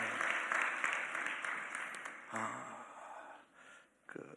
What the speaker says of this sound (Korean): 오늘 그 예수님에게 영광의 박수, 감사의 박수로 영광을 돌리겠습니다